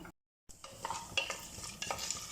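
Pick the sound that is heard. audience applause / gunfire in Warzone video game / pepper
pepper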